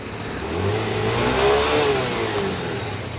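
A Honda Activa scooter that will not move forward revs up, its engine climbing in pitch before easing back down, steady and fairly close.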